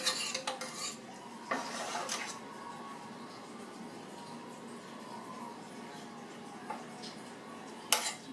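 Homemade gravy being spooned onto a plate of chicken fried steak, with a few scrapes and clinks of utensil on dish, a soft wet pour in between and a sharp clink near the end.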